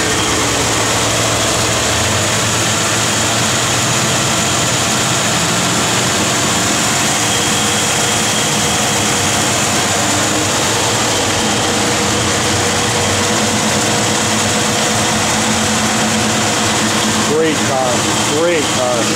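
A 1967 Chevrolet Impala SS idles in cold weather, its engine giving a steady, close rumble that holds unchanged for the whole stretch.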